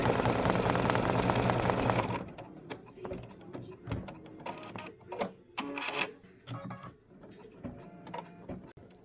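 An embroidery machine stitches free-standing lace Halloween earrings, running loud and dense at first, then settling into a steady mechanical clatter of needle strokes with intermittent clicks and short bursts.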